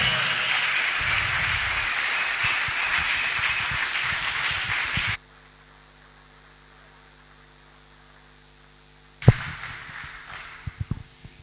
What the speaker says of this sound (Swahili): Hiyo makofi iende juu kidogo vizuri jameni.